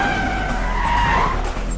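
Car tires skidding and squealing during a movie chase, a loud sustained screech over engine roar lasting the whole moment, close and without voices.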